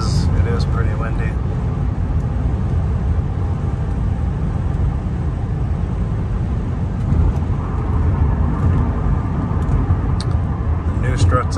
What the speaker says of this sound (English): It is a bit windy today, so you might hear a little bit more wind noise than you might normally hear